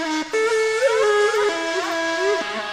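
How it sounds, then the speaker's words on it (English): A synth lead melody from an FL Studio K-pop beat plays as a bright, sustained tone, gliding between held notes with a short break near the start, steady and upfront with no drums or voices. "there's also this other lead that helps to support it."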